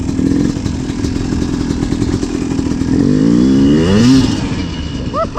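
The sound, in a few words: Yamaha YZ250 dirt bike riding in second gear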